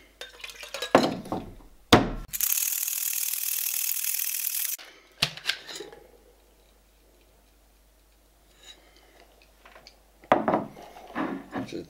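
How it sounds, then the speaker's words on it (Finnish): A cocktail shaker with ice is shaken hard for a Sicilian Morning cocktail made with vanilla syrup. A dense, rattling burst lasts about three seconds, framed by sharp clinks and knocks of glass and metal being handled. "Sitten ravistellaan."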